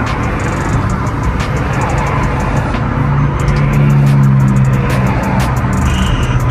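A catless Chrysler 300 drives through suburban streets, its loud exhaust roaring steadily and close throughout, with a slight swell in engine note partway through.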